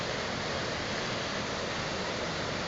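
A waterfall in Colorado's San Juan mountains roars as a loud, dense, unbroken rush of falling water, steady and close throughout with no voices.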